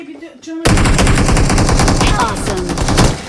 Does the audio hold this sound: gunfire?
yes